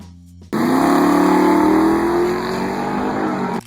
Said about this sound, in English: 1964 Pontiac Tempest Le Mans GTO Tri-Power.